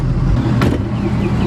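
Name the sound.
skid steer engine straining while stuck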